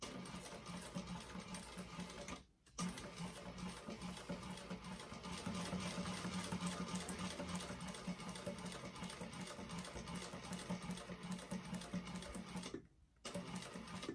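A sewing machine runs steadily, top stitching the edges of a Madeleine bag, with two brief pauses where the needle stops, likely for turning at corners; the hum is continuous and close, with no talking.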